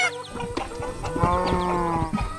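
A chicken clucks on a green farm with straw piles, the call carried over a steady wash of other farm and livestock noise. Several overlapping tonal calls run continuously at moderate loudness.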